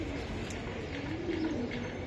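A giribaz high-flyer pigeon coos softly in a low, wavering call, faint against background noise.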